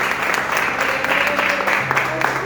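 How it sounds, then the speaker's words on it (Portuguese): A church congregation at a Brazilian evening service claps steadily in a dense, sustained round of applause, filling the room with no pauses. "Vamos receber o servo do Senhor com uma forte salva de palmas para Jesus"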